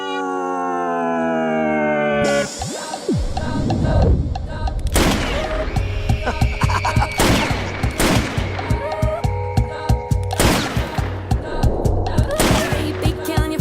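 Celebratory gunshots ring out at a wedding in a Bollywood film, a string of loud, sharp bangs at irregular intervals over festive music after a rising tonal sweep.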